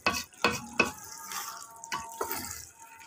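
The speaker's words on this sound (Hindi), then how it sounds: "मैं पाँच मिनट तक मज़ीद इसकी भुनाई करूँगी ताकि अच्छे तरीके से ये भून जाए" Urad (mash) dal being stirred and roasted in a pot, with several sharp scraping and stirring strokes over a soft sizzle, close and fairly loud, no speech.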